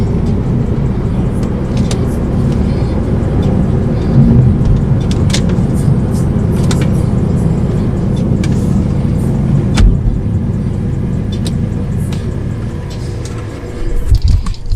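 A 2015.5 Volvo S60 T5 AWD drives along a road on a test drive, giving a steady loud rumble of engine and road noise from inside the car, with small knocks and clicks along the way.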